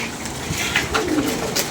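Pigeons coo close by in a short, soft, throaty burst of low warbling calls over faint background noise.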